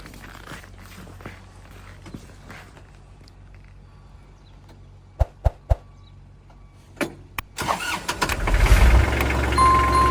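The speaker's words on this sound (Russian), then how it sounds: "Запустим. Покажем," Kubota GL-32 Japanese 32-horsepower mini tractor with rotary tiller: a few footsteps and sharp clicks, then the diesel engine cranks and catches near the end, settling into a loud steady idle.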